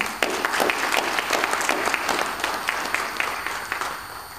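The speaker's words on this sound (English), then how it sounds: "I would like to give a round of applause for MSS." Audience at a 25-year celebration breaking into a round of applause, many hands clapping loudly and steadily for several seconds before slowly fading.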